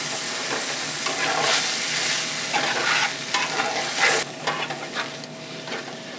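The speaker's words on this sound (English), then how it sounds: "Now apparently this is where the magic's supposed to happen, because we add a little bit of cream." Cream poured into browned flour and sausage in a hot pan sizzles loudly and steadily while a utensil scrapes and stirs in repeated strokes, fading a little toward the end.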